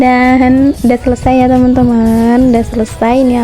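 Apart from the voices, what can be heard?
None of the usual background noises is heard.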